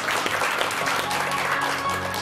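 A studio audience on a Korean morning TV show applauds steadily, dense clapping throughout at an even, fairly loud level with no break.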